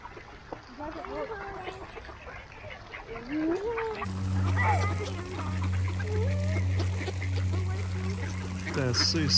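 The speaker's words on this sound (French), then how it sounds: "Regardez les canards." Ducks quack and call near the water at a bird sanctuary, with light splashing while a low engine rumble comes in partway through and people talk faintly in the background.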